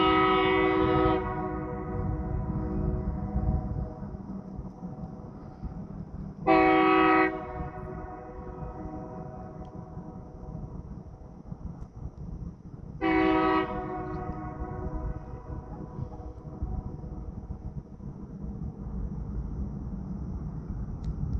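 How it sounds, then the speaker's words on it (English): A train horn blasts three times, each a long harmonic tone, over a steady low rumble of a train rolling in at The Pas, Manitoba, arriving from Pukatawagan. "Train pulling in, arriving from Pugatawagan."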